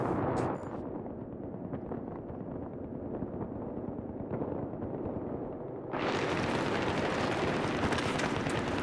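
Battlefield 3 gunfire on the Metro map fills the clip as a steady, muffled roar of distant shooting and rumbling blasts, growing louder and brighter toward the end.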